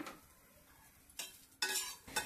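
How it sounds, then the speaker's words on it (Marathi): Garlic and ginger sauté in a pan, heard as a faint low sizzle broken by a few short, sharper bursts of spatula scraping and stirring toward the end. No speech. "त्याच्यामध्येच आपण लसूण आणि अद्रक तेही छानसं परतून घेऊया."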